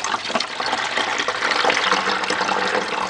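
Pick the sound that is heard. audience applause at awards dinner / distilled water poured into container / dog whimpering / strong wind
distilled water poured into container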